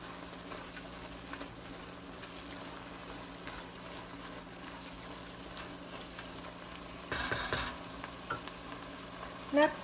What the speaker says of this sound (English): now we'll just give this a good stir